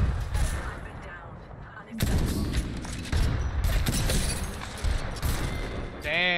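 Apex Legends gunfire: dense bursts of shots and impacts, loud and close, with a sudden heavy volley midway and metallic weapon handling at the end.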